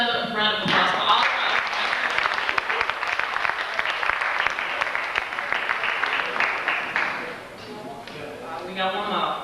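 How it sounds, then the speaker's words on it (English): Audience applause at a poetry reading, a dense burst of clapping that swells and holds for several seconds before fading, with voices talking over the start and end. "Let's give another round of applause for all."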